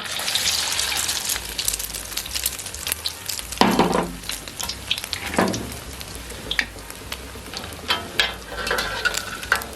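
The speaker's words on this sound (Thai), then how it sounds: "พอน้ำมันร้อนแล้วนะครับ ผมเราก็ ใส่ไข่ ของเราลงไปนะครับ" Egg for a crab omelette fries in hot oil, a steady, bubbly sizzle with crackling bursts and occasional louder surges, with no voices.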